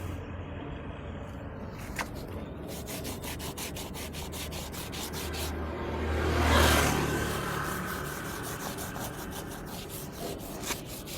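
A tyre polished with a handheld power tool gives a steady, loud abrasive rubbing and whirring that runs continuously, swelling briefly in the middle, with no talk over it.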